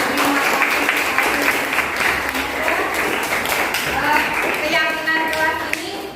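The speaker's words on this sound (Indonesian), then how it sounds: "kita beri aplaus atau tepuk tangan yang meriah untuk kelas 8B" A classroom of students gives lively, sustained applause for class 8B, dense clapping throughout with voices and chatter mixed in over the top.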